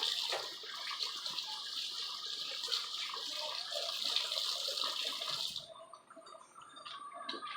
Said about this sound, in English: I am going to wash my hands.